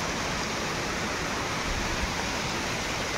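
Water gushes down into a newly dug well as a dense, steady roar, loud and unbroken like a waterfall, with no voices over it.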